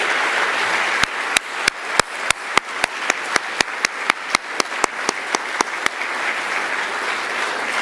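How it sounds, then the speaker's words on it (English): Big round of applause for award nominees at the Northern Territory Australian of the Year Awards: a sustained crowd wash punctuated by loud, evenly spaced sharp claps close to the microphone, roughly three per second, fading back into general applause. "give you a big round of applause"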